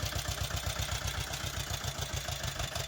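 A small tractor's diesel engine idles close by, a steady loud low chugging with a fast even pulse and slight clatter, running alone without talk.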